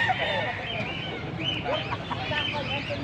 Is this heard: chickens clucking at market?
yes